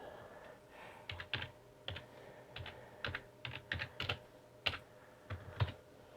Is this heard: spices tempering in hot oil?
no